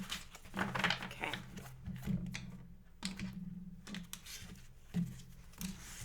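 Tarot cards are shuffled by hand up close, a run of soft riffling taps and papery flicks coming in uneven bursts with brief pauses between them.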